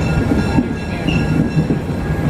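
An ITC caboose rolls along the rails toward Monticello's railway shops, giving a steady, loud, close rumble of wheels on track with faint squeals and no talk.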